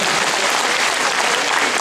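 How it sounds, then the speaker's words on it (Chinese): A concert audience at the Sun Yat-sen Memorial Hall claps loudly and densely, a dense wash of applause lasting the full couple of seconds with no speech heard over it. "再给热情的掌声呀！"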